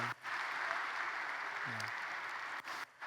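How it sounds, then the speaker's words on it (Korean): A church congregation claps steadily in sustained applause after an infant baptism, fairly quiet and even, with brief breaks near the start and end. "큰 박수 보내주세요."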